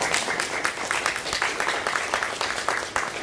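An audience claps after a talk, steady dense applause with many hands at once, filling the room evenly throughout.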